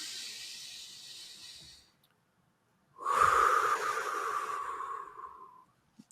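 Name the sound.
people taking a deep breath together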